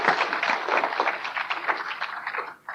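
Audience applause at a Geeta discourse rolls on continuously as a dense, steady clapping crowd, then drops off abruptly near the end.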